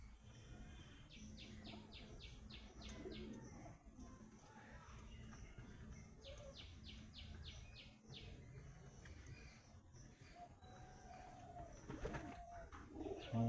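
Male pigeons in a loft, a mix of Andhra, Madras, Shahjahanpuri and Saharanpuri breeds, coo softly and continuously, with bursts of rapid rhythmic wing-like flutters and faint chirps against a quiet background.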